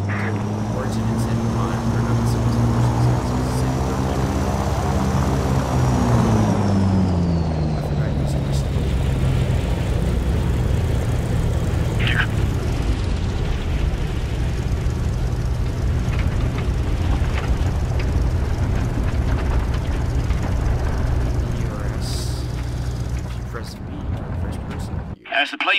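A propeller aircraft engine drones steadily as the plane lands in War Thunder, a loud continuous hum whose pitch falls as the throttle is cut back, with a voice talking over it.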